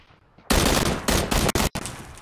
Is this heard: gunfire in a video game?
yes